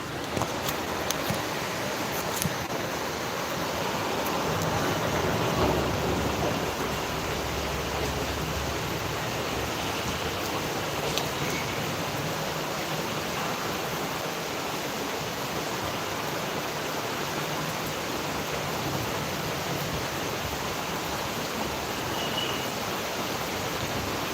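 Good rain pours down in Tirunelveli, a constant broad wash of falling water that stays loud and unbroken, with a few faint knocks near the start and no voices.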